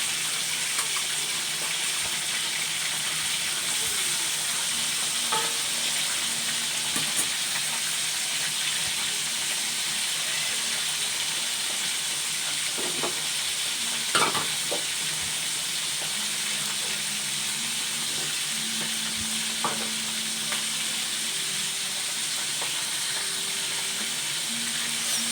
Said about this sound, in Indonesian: Nah ini di sampingnya ini saya mau goreng ikan asin.